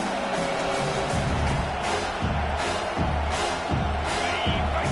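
A stadium crowd cheers in the NCAA 25 college football video game, a loud steady roar swelling late in a drive before a fourth down, with rhythmic pulses beneath a broadband wash.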